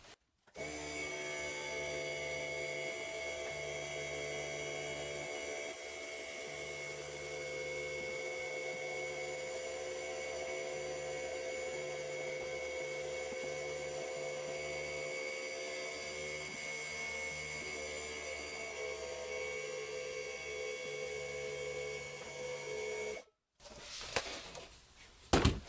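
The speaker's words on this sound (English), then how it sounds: "So I prefer sand etching for stuff like that." A homemade sandblaster blasts sand to etch a plate, giving a loud, steady hiss with a droning hum that holds for over twenty seconds before cutting off abruptly, followed by brief faint clatter.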